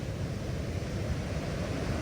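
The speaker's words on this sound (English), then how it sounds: "before that next big breaker gets in here" Ocean surf rolls steadily onto a beach near Ensenada, Baja California, a loud, continuous low rumble of breaking waves mixed with wind buffeting the microphone, with no talking.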